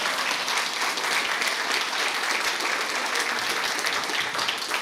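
Loud, dense applause from a large audience, continuous and even throughout, with no talking over it.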